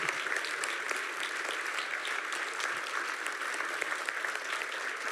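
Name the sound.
audience applause at end of lecture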